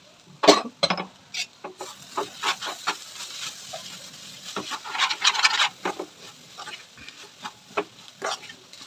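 Green gram dal and ponnaganti leaf curry stirred in a pan, producing intermittent close scraping and rubbing strokes over a faint background sizzle.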